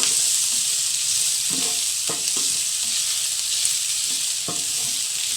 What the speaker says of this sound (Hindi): पहले हम गाजर को अच्छे तरीके से थोड़ा सा फ्राई करेंगे।